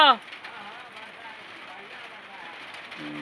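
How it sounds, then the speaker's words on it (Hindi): Rain falls steadily on a village, a continuous moderate hiss of drops with no talking, a brief voice cut off at the very start. "कते दिन का बाद है वर्षा शुरू भेल हाँ।"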